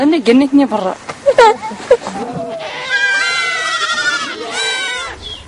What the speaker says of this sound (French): 100 chèvres et 80 moutons, c'est toute sa richesse